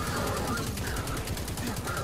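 Rapid automatic weapon fire from Destiny 2 on Xbox One, a dense, continuous rattle of shots with no pauses, loud and steady under game noise throughout.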